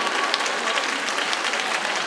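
Audience applause at a national youth choir competition in Yangsan, a steady, even wash of many hands clapping throughout, moderately loud with no break.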